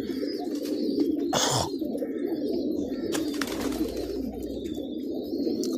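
Pigeons coo in low, soft, repeated rumbles close by, with occasional wing flaps and faint chirps from other birds in the background.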